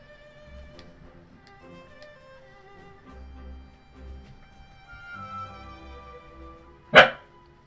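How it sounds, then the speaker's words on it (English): A dog barks once, sharp and fairly loud, at a distance in the background during a Monster Hunter World gaming session, after a stretch of quiet game music and ticking. "Dog. I thought I heard something in the background there."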